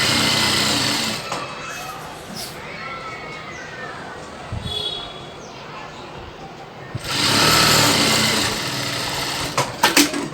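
A sewing machine stitches the seam of a full gown with a round neck, running steadily with a whirring hum that rises and falls, louder at the end.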